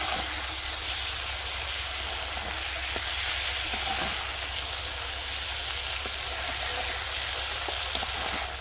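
Eggs and tomatoes fry together in a pan with a steady, even sizzle that holds for the whole stretch, broken only by a few faint stirring clicks. No one speaks.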